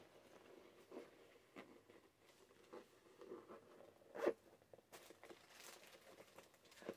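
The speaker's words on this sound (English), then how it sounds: "But when you zip it up" Zipper on a small bag with inner pockets being zipped closed, a series of short scratchy zipping strokes with brief pauses, close and fairly quiet, no talking.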